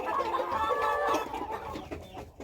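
Chickens cluck busily at feeding time in a farmyard poultry run, a close, brief burst of several overlapping clucks and soft calls from the flock.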